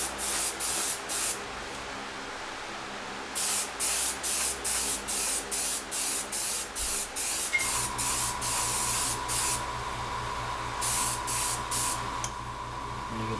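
A paint spray gun lays down a wet coat at about three-quarter trigger pull on a custom paint job, hissing in a dozen short, evenly spaced bursts, close and loud with no talking.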